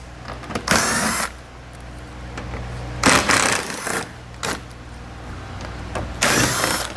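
A power driver backs 5.5 mm head screws out of a panel while a trailer hitch is fitted to a 2018 Ford Edge, whirring in several short loud bursts separated by quieter pauses.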